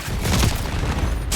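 A frag grenade explodes in Black Ops 6, a loud, close booming burst with rumbling low end amid gunfire, ending in a brief sharp crack.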